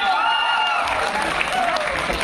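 Audience clapping at a college mushaira poetry gathering, a steady, fairly loud and continuous patter of many hands with faint crowd noise mixed in, running the full length without a break.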